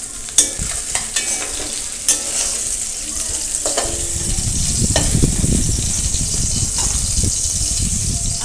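Mixed fish pieces sizzle steadily in hot oil, with a few sharp clinks early on as pieces are lifted out, then a louder, rougher broadband bubbling and hiss takes over for the rest.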